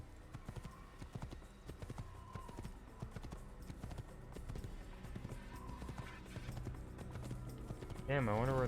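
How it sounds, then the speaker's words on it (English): Rhythmic hoofbeats of a galloping horse clatter steadily in an Assassin's Creed game soundscape, with a whinny-like cry near the end. "The horse gallop animation is so goofy."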